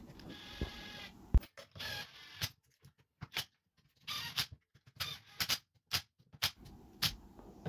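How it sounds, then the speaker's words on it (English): Screws being driven in to bolt together the casing of a Bosch washing machine motor after bearing replacement, a series of short sharp clicks and scraping bursts in an irregular rhythm, close and quiet. "now I just have to bolt the casing together with four screws"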